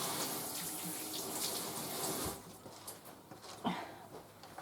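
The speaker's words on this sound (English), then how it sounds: "Let me get a little bit of soap and wash my hands." A tap runs into a kitchen sink while hands are washed, giving a steady rushing stream for the first half that then breaks into softer, uneven splashing, fairly quiet and close.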